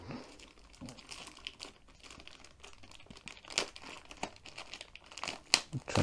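Close crinkling and crackling of a sealed plastic bag holding a canvas as its glue strip is peeled open, with irregular rustles and small tearing pops throughout.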